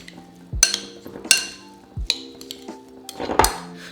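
A spoon clinks and scrapes against a bowl while pico de gallo with seeded jalapeno is mixed, giving several sharp, close ringing taps spaced irregularly, with soft stirring in between.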